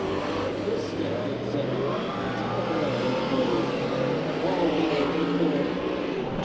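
A 16-car field of race cars in a heat race at Santa Maria Raceway roars steadily, engines droning and revving in a dense continuous wash, with commentators talking over the noise throughout.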